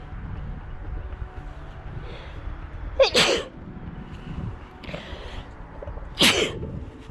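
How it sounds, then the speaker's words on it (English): Two loud sneezes a few seconds apart, each with a short sharp burst, over quiet outdoor background noise. "I'm gonna sneeze."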